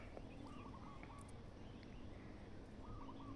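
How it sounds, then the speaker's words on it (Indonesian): Several birds call faintly in the distance, including soft repeated cooing phrases from turtledoves, over a steady outdoor background at a spring beneath limestone hills. "banyak suara burung lebih-lebih berkutut di tempat ini"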